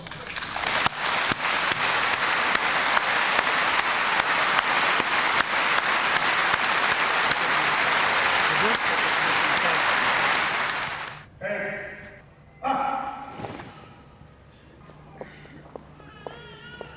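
An audience applauds soldiers at a medal ceremony where the queen presents commemorative medals, with sustained, dense clapping for about eleven seconds before it breaks off into scattered claps and quiet voices.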